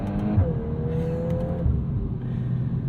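A 2022 Volkswagen Golf R with a manual gearbox pulls hard through the revs, its engine note climbing, dipping at a gear change and climbing again, loud and steady with no talking.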